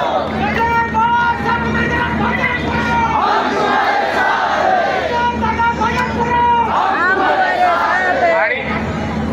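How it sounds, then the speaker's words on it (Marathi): A large rally crowd in Aurangabad cheers and shouts loudly and without a break. Many overlapping voices rise and swell through the whole stretch, with no clear clapping standing out. "आपल्या सर्वांसाठी एकदा जोरदार टाळ्यांचा हात होता।"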